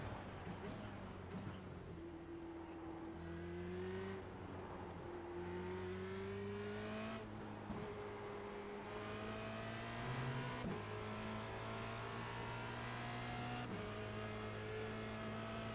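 A Formula Renault 2.0 race car engine in iRacing hums steadily throughout, with gear-change pitch steps and rising revs repeating every few seconds, close and continuous under occasional team radio talk.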